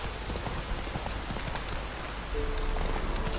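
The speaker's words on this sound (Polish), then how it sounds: "tylko deszcz pada i dlatego tak jest" Rain falls steadily in The Witcher 3, a dense, even hiss of drops with faint clip-clop-like taps, quiet and continuous for a few seconds.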